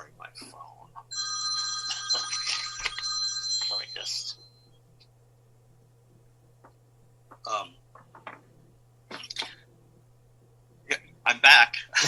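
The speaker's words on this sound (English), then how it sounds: "Sorry, my phone." A telephone rings in a sustained electronic trill for about three seconds, then stops; a voice speaks briefly afterward with short bursts of sound and quiet gaps.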